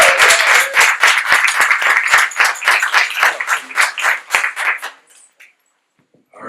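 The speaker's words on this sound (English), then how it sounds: "why don't we give a round of applause to all these speakers?" Audience at a fashion event speaker panel claps for the speakers, a loud round of fairly sparse, distinct handclaps that thins out and stops after about five seconds, leaving near silence.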